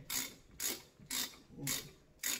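A wrench turns a fitting onto a 14-bolt axle in five evenly spaced bursts of quick ratcheting clicks, close and fairly quiet, each stroke separated by a short pause, with no talking.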